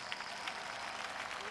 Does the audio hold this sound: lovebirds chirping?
no